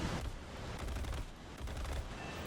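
Browning machine guns on an F-80C jet in the War Thunder video game, rapid continuous gunfire rattling in a dense steady stream over an engine roar.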